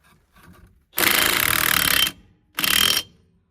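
Lug nuts being spun onto a spare tire on an RV, one cross-threading, with a ratcheting, whirring mechanical burst of about a second, a pause, then a shorter second burst, fairly loud and close with no talk.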